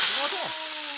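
Hot oil sizzling in a wok as a Thai stir-fry gets started, a loud, steady broadband hiss that eases slightly, with a brief voice-like tone underneath.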